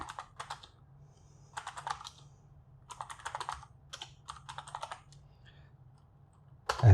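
Typing on a computer keyboard in several quick bursts of close, crisp key clicks separated by short pauses over a low background hum.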